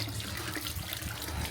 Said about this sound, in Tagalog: kukuha ka ng tubig dyan, lalagay mo sa tabo